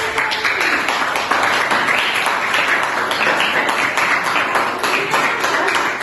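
Students in a school classroom clap together in a brief burst during a physics lesson, a dense, even patter of hands that fills the room.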